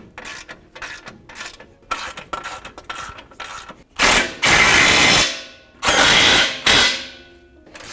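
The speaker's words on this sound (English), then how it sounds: "Then we can get these tightened and go back to the top to finish tightening the nuts up there." Ratchet tightening coilover bolts on a 2021-2023 Ford F-150 Fox 2.0 leveling kit, first in quick clicking strokes, then three loud sustained whirring runs of an impact or powered ratchet, close up and without talk.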